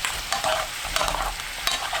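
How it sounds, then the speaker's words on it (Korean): Cut honeycomb pork belly pieces fry in bubbling sauce over low heat, a dense close sizzle with a few stirring scrapes, loud and continuous without any talk. "양념이 끓으면 약불로 낮추고 삼겹살을 잘라서 넣어주세요."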